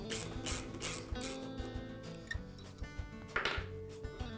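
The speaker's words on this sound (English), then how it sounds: "Now I can remove the screws that secure the jaws." Screws being backed out of the reversible jaw inserts on a Wilton bench vise, giving soft metallic ratcheting and grinding clicks, faint and close, with uneven rhythm and no speech.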